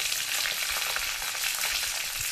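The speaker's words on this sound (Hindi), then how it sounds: "सबसे लास्ट में हम इसमें कड़ी पत्ता डालेंगे और अच्छे से इसे तड़का लेंगे।" Steady crackling sizzle of spices and curry leaves frying in hot oil for a chutney tempering, continuous and close, with no voices.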